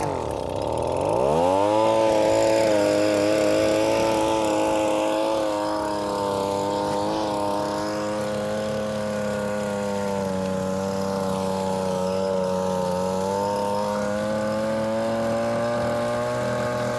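A Royal Manufacturing drywasher's small gas engine catches and revs up within the first two seconds, then holds a loud, steady, close buzzing drone with a slight waver in pitch.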